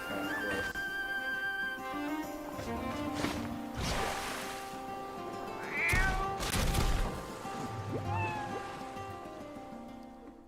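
Cat meowing in a Cat Quest video game trailer: several drawn-out, gliding meows over a music bed, with one louder yowl near the middle.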